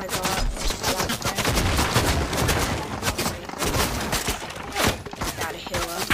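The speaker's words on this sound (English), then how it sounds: "Gunfire?" Rapid bursts of automatic weapon fire in the video game Fortnite, dense crackling volleys with sharp individual shots and brief gaps, loud and close, with a player's voice occasionally talking over the action.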